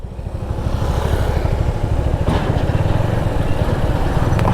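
Motorcycles serving as two-wheeler taxis in crowded traffic on a Mizoram road, a steady mid-level engine drone with clattering and a brief louder pass partway through.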